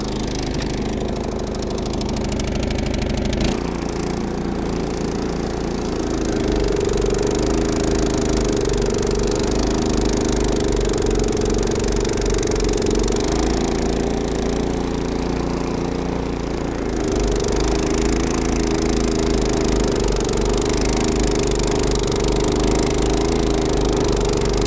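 Evoline Standard two-stage snow blower with a 6.5 hp engine running steadily, a loud close rumbling drone with a rhythmic low pulse, shifting slightly in pitch and load partway through and holding for the whole stretch.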